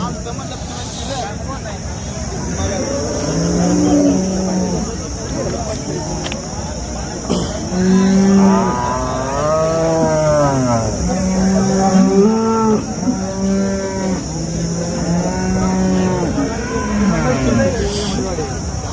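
Several loud, drawn-out cow moos repeat close by at the Sangola cattle market, over a steady background hum and a thin high-pitched whine.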